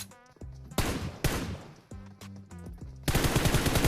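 Gunfire in the mobile battle royale game PUBG Mobile comes as loud rapid automatic bursts separated by short pauses, with a longer sustained burst at the end.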